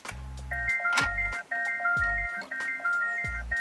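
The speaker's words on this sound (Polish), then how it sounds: "Taki właśnie oto dziwny dźwięk wydobywa się właśnie z samochodu" A 2022 Peugeot Traveller's repeating electronic warning chime when not in park, a pattern of pinging tones cycling about once per second, accompanied by low thumping pulses, fairly quiet.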